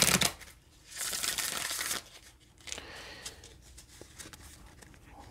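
Tarot cards being shuffled in several quick riffling bursts, close and crisp, with softer handling sounds between them.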